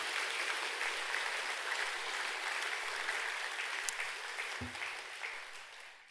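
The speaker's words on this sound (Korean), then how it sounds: "박수 한번 치세요." A temple congregation at a Sunday Buddhist service gives a round of applause, a soft, even, distant-sounding patter of many hands that fades slightly toward the end, with a brief low thump midway.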